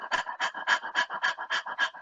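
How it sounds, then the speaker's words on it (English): A group of people pant rhythmically like dogs during a breathing exercise in a music and rhythm class, with eight or so quick, even breaths spaced about a quarter second apart, close and moderately loud. "We're going to be panting."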